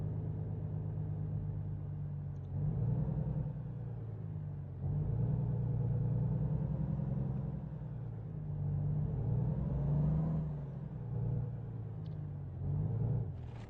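Heavy truck engine in American Truck Simulator, a steady low rumble that swells and eases as the rig creeps forward while maneuvering a load, loud and continuous without talk.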